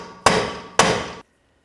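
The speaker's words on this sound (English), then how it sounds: "I'm just going to use a punch and a hammer. Just give it a tap, try to loosen up the axle from the hub." Two sharp, loud metal strikes of a hammer on a punch against the rear wheel hub axle of a 2007-16 GMC Acadia, about half a second apart, each ringing briefly before stopping.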